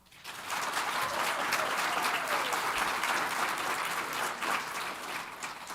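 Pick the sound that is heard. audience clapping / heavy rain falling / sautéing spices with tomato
audience clapping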